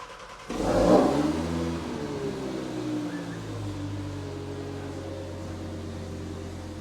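A 1000+ horsepower Audi TT RS revs and accelerates up a hill, a loud rising engine roar that swells early and then holds a steady, droning pitch as the car pulls away.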